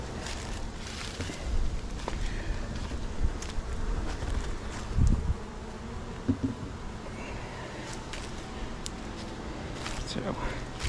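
Honey bees buzzing around a backyard hive, a faint, steady swarm hum with occasional individual bees passing close, under wind rustle and a voice talking at times.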